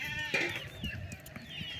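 Goats bleating in open farm fields in rural Maharashtra, with one clear nasal bleat near the start and fainter calls following over a low outdoor background.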